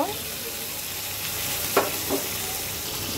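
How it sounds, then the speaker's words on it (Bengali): Boiled goat meat drops into hot frying spices for a mutton curry, giving a steady close sizzle with a brief clatter as it lands. "এই আমি দিয়ে দিলাম সেদ্ধ করা খাসির মাংস"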